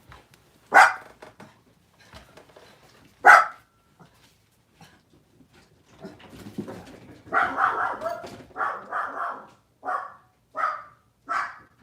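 A dog barks at someone arriving at the door: two sharp separate barks early, then after a pause a run of rhythmic, close barks, one after another with short gaps.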